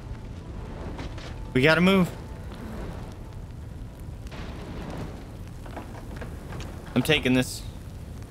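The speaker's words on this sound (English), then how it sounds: "There's fire." A fire crackles and roars steadily under a rumbling, rain-like wash inside a burning building in the game Life is Strange 2. Two characters speak urgently over it.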